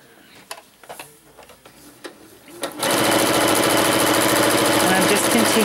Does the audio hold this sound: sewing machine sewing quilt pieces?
yes